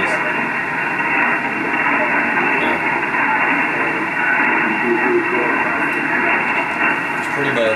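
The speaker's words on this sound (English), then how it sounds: "There could be some of the static crashes I'm trying to get here because of this, these thunderstorms that are right up north of us." A ham radio receiver gives a continuous loud hiss of static with uneven crackling crashes from nearby thunderstorms, a dense, unbroken band of noise throughout.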